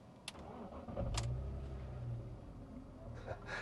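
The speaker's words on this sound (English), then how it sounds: "So crank up the inline 6" A BMW 325ti Compact (E46) inline-six cranks and catches, then settles into a steady, low, smooth idle, heard faintly from close by with no talking.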